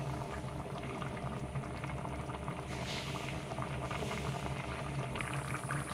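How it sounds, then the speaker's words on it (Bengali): Jhinge jol bora, ridge gourd fritters, boiling in a pot of water: a steady, dense bubbling simmer, close and even throughout with no pauses, and no voices. "এবার কিছুক্ষণ এটাকে ফুটতে দিলাম"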